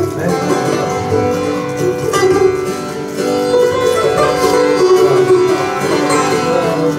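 A sitar played with repeated strokes, resonant and droning, continuing steadily without any voices.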